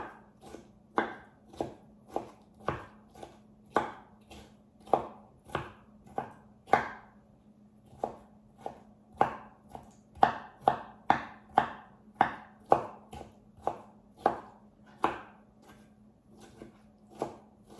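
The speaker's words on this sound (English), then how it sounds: "I'm just rough chopping this ingredients because I'm gonna cook this down in my pan" Steady, rhythmic knife chops on a cutting board, about one strike per second, close and crisp, with a faint hum underneath and no talking.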